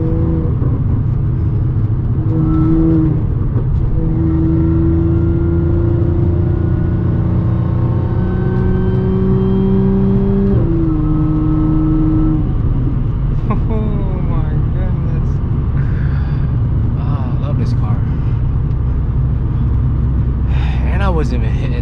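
Audi S4 B8.5 fitted with an AWE exhaust and test pipes, driven on an open road with steady engine drone and a few gear shifts, the exhaust tone rising and settling, with a voice talking faintly over the cabin noise.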